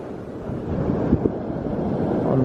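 Wind buffeting a microphone on a rainy beach during fishing, a steady low rumbling roar with a couple of small knocks and no speech.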